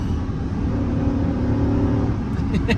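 A 2005 Chevy Silverado pickup truck engine drones and pulls in second gear while towing, a loud, steady low rumble inside the cab with faint voices in the background.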